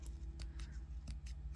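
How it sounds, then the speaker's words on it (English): Scissors trimming pom-pom yarn on a pom-pom maker: a quick series of crisp snips, close and moderately loud, over a low background hum. "we're going to take a pair of scissors"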